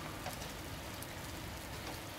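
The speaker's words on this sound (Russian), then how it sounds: "А это, оказывается, шум дождя. Дождик сейчас идет прям замечательный." Heavy rain on an April day in Kazan, heard from an apartment window, makes a steady, dense hiss with no pauses, faint and even throughout.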